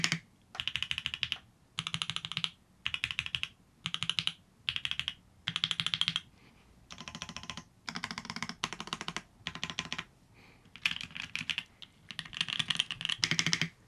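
A custom mechanical keyboard gets rapid, close bursts of key presses, short clusters of crisp clacks repeated over and over with brief silences between, and no voices.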